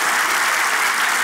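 Studio audience applause on a Turkish sitcom set, a dense, steady wash of clapping heard alone for the whole short burst.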